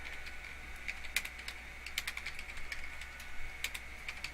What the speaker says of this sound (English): Be nice if I could type.